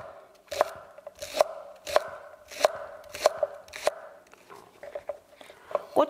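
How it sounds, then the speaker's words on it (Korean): A knife chops green onions into thin rounds on a cutting board during a cooking class, about eight crisp, evenly spaced chops sounding close and clear with no talk over them. "대파는 송송 써시면 됩니다"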